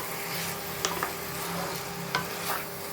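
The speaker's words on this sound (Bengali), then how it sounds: "তো এবার আমি ওই রসুন পেঁয়াজ টমেটোর পেস্টটার সাথে আমি ভালো করে চিকেনটাকে মিশিয়ে দেবো।" Chicken being stirred into a garlic, onion and tomato paste in a hot pan. A soft sizzle runs underneath, with a few sharp spoon scrapes and clicks standing out over it.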